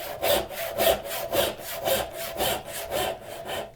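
Hand saw cutting down the side of a wooden tenon for a draw-bore mortise and tenon joint, close up, with steady rhythmic strokes roughly every half second and no talking.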